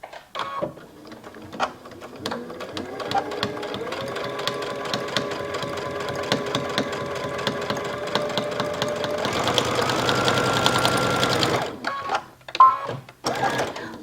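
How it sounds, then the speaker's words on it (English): A sewing machine running a straight stitch across a hem edge, a steady whirring hum that speeds up near the end, then stops, followed by a few handling knocks. "stitch along this edge right here, and just stitch all the way across"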